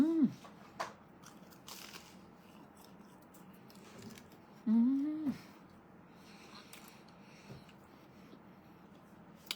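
Someone bites and chews a crispy fried curry puff pastry, giving a few brief close crunches between short vocal sounds and quiet pauses.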